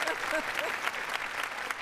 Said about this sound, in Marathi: जोरदार टाळ्या त्यांच्यासाठी झाल्या पाहिजे